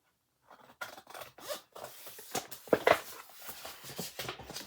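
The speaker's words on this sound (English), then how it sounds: "use my long scissors to make a nice long cut" Long scissors slicing paper for a meadow flowers mini book, a run of crisp snips and rustles close by, growing louder mid-cut, with no talking.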